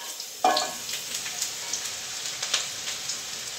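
Shallots and onions dropped into a hot pot for French onion soup, a sudden burst of sizzle followed by steady crackling and popping, close and clear with no voices.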